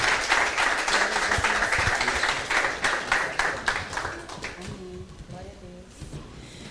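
A church congregation applauds, with dense, rapid clapping from many hands that is loud at first, then thins out and fades as a few voices begin speaking beneath it.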